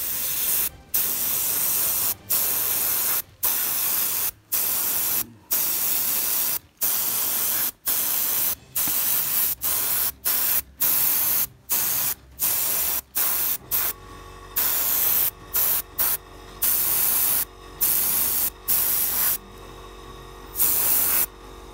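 Airbrush powered by a compressor spraying a layer of paint onto an Alpha Legion Chaos Space Marine miniature: loud, close bursts of hissing spray, repeatedly cut by short pauses in an uneven rhythm.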